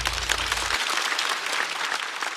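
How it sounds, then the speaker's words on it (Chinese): A talk-show studio audience at a stand-up comedy program applauding, dense sustained clapping from a large crowd at steady volume throughout. "再次掌声送给高寒。"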